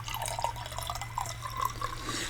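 A sherry-like fortified wine of about 15% strength is poured from a bottle into a glass. It makes a soft, close trickle and gurgle over a low steady hum, and there is no talking.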